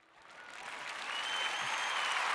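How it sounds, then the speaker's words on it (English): Applause for the Knicks at a basketball game, a crowd's clapping swelling from moderate to loud and holding strong over a couple of seconds. "One more round of applause for the Knicks"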